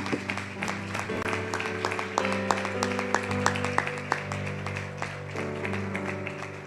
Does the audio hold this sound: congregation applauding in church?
yes